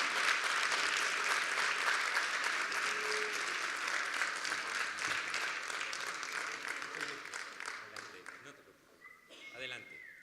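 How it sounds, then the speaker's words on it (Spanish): Audience applause at a candidates' forum on culture and the creative economy, strong clapping that gradually thins and fades, ending with a few scattered claps and a nearby voice. "Un aplauso, por favor, para don Alejandro Guillet."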